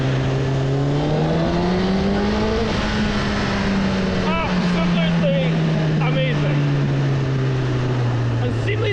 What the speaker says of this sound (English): And that 4-cylinder engine just is amazing.